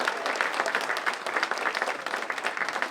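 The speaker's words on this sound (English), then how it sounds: "How about a round of applause for our first graders?" At a Veterans' Day event at a senior center, an audience gives first graders a steady round of applause, many hands clapping evenly at moderate loudness for the whole stretch.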